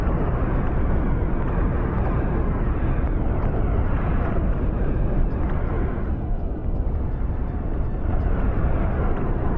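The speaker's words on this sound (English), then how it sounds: "Massive explosions. There's nothing left of that ship." Dense, continuous roaring rumble of massive starship explosions during a space battle in Star Trek Cosmoteer, a loud, steady wall of muffled blast noise with slight swells and no clear breaks.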